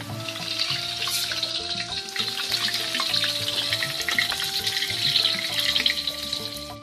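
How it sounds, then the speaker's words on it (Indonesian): Sambal ingredients stir-fry in hot oil until light brown, giving a steady close sizzle and crackle with scraping stirring noises throughout and no talking. "Terus diaduk-aduk digoreng dugi ka warnana rada coklat supados aromana keluar"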